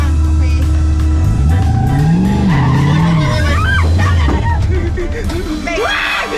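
A drifting car slides out under heavy throttle, its tires squealing loudly in long wavering whines over a roaring engine, close and intense, with people's excited voices briefly audible.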